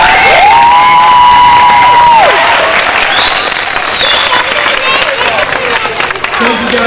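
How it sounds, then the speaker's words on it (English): A loud crowd at a school banquet erupts into sustained clapping, cheering and high whoops, with children shouting and whistle-like cries rising above the dense applause for several seconds. "So please give everyone a round of applause for just caring for our kids."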